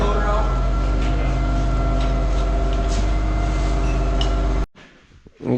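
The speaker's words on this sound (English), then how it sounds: "Getting the skid loader out." A skid loader runs nearby with a loud, steady diesel drone and mechanical rumble that holds constant before cutting off abruptly, leaving a quiet stretch at the end.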